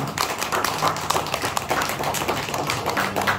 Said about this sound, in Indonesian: Tepuk tangan untuk Pak Lukman